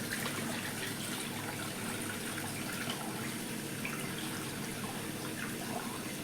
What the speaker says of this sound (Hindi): धीरे धीरे पानी निकालना पड़ता है जिससे कि हमारा नाज ना जाए।